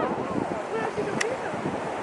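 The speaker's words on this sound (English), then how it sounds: "It's so windy." Strong wind blows outdoors on a nature walk near ducks and swans, a rumbling, buffeting rush against the microphone that stays steady through the short moment.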